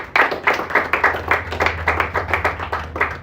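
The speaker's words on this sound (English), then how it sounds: "So let's just give him a big round of applause." Audience clapping at a bookshop reading event as the next reader is introduced, a loose rhythmic patter of many hands close by, steady for a few seconds with no talk over it.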